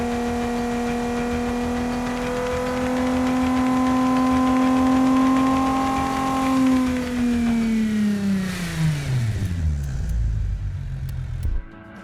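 A car engine in the simulation game Automation revs steadily high to around 4,600 RPM, a loud buzzing drone held for several seconds before the pitch winds down sharply and the engine dies away.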